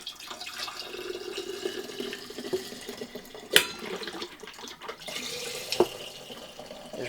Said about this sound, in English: I'm going to go ahead and pour the vodka into my quart jar